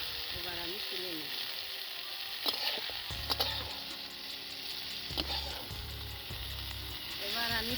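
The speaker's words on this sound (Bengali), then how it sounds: "বেগুন আমার ভাজা হয়ে গেছে হালকা করে" Eggplant frying lightly in oil hisses in a soft, even sizzle with occasional stirring scrapes, fairly quiet under light background music.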